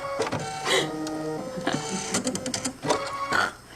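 Sewing machine running in short mechanical bursts, whirring and clattering at close range while it is being threaded.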